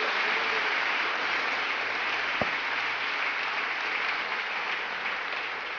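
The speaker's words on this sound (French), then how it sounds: "Alors acclamons le Seigneur pour..." A church congregation applauding to acclaim the Lord, a dense, steady wash of clapping that fills the room evenly from start to finish, with no voices standing out above it.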